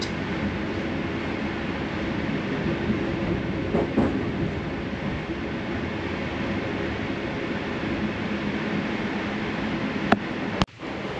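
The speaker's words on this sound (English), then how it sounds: "Our train made its first stop for coach class passengers" Continuous rumble and rattle of the Amtrak Crescent passenger train rolling along the rails near Tuscaloosa, Alabama, steady throughout, with a couple of sharp clacks near the end.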